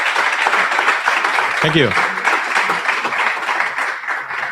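An audience at a Vue.js developer meetup in Barcelona gives a talk a big round of applause. Loud, dense clapping fills the room throughout, and a voice briefly says thanks partway through.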